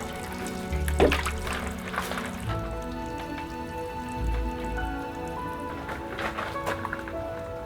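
Water is poured onto dry potting soil for air-layer plant propagation in a December garden, giving splashing, trickling bursts that come and go over a faint steady background.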